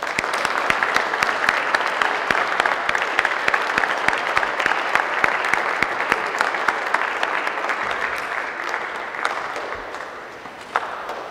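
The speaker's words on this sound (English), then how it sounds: "please give each other a round of applause" A graduating class and their families applaud at a nursing pinning ceremony, sustained dense clapping from a large crowd that fills the room and fades slightly near the end.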